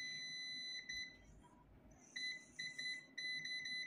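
Continuity beeps come from a multimeter whose probes are held to ground points on a Tata EDC17C55 ECM board: shrill, steady tones that sound in several bursts with short gaps, fairly faint overall in a quiet workshop.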